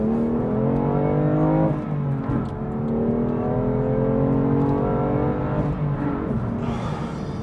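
A 2021 BMW M2 Competition accelerating hard on an open road, heard from inside as a loud, steady engine roar that climbs in pitch through the gears with brief dips at the shifts.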